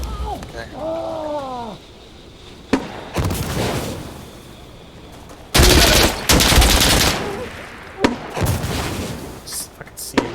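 Gunfire in a multiplayer match of the shooter game Insurgency Sandstorm, with sharp isolated shots and dense loud bursts of automatic fire, interspersed with players talking.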